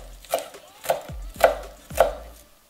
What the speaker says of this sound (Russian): Нарезаем мелко.